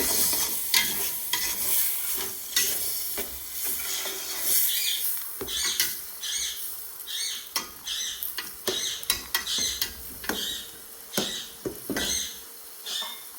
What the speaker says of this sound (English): I'm now adding the tomatoes. Giving that a good mix.